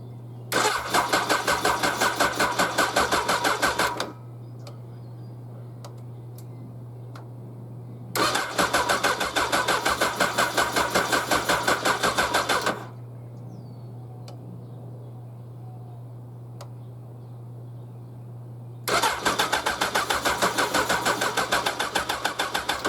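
A Suzuki 1100G motorcycle with running issues cranks over in three loud bursts of rapid starter chugging, with quieter pauses between them and a steady low hum underneath throughout.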